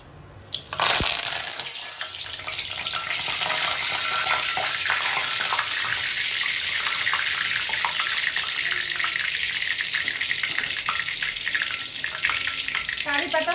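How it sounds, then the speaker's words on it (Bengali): Curry leaves hitting hot oil for a Maharashtrian-style mutton curry, a sudden loud crackle that settles into a steady, close, hissing splutter and sizzle lasting throughout, with no talk. "কারি পাতা ভালোভাবে ফুটে উঠেছে"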